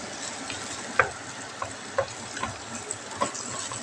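Beef sizzles in a frying pan as a low, steady crackle, with a few sharper clinks and ticks from stirring scattered over it. No one speaks.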